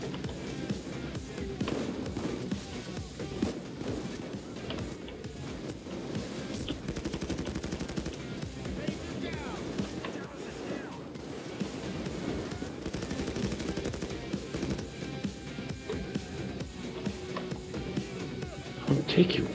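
Dense gunfire from the Payday 2 heist shooter, a steady chatter of rapid shots running throughout under a player's talk.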